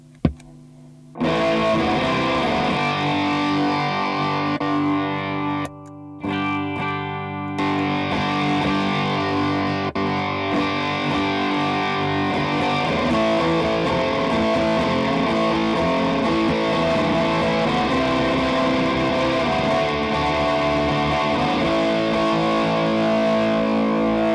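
A distorted electric guitar through a distortion pedal into a G3 Atom plays sustained, heavily saturated chords with a thick buzzing tone, briefly cutting out once before ringing on.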